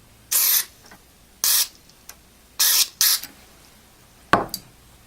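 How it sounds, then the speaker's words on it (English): Several short hissing bursts of aerosol contact cleaner sprayed into the electrical contacts of a Coleco Telstar Combat game console, close by, separated by pauses, with light clicks and handling noises between them. "take the contact cleaner and spray it into the"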